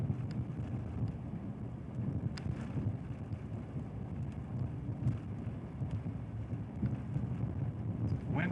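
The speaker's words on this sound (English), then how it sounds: "the wind is blowing pretty good here" Strong wind during a thunderstorm in southeast Texas roars steadily through trees in open pasture, buffeting the microphone with low rumbling gusts while someone talks faintly beneath it.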